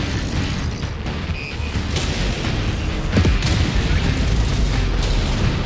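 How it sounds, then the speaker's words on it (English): Orbital barrage strikes in the game Helldivers 2, a dense run of booming explosions and mechanical rumble over a steady loud roar, with a sharper blast near the middle. "Firing orbital barrage."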